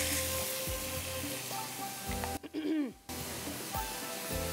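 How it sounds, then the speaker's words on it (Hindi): Chopped tomatoes and masala sizzling and frying on high heat for turai ki sabzi, a steady hiss with brief stirring clatters and one short break in the sizzle. "इसको तेज़ आग पर आपने इसकी भुनाई कर लेनी है"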